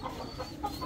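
Chickens clucking at feeding time as grain is scattered for them, soft low clucks and murmurs close by, faint and continuous with no talk.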